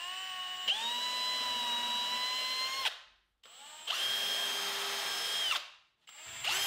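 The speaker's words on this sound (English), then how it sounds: "Now I can drill through the pilot hole and into the brace." A power drill whines at high speed in two long bursts, each pitch dipping slightly as it bites through a pilot hole into a hardwood brace, then a third begins.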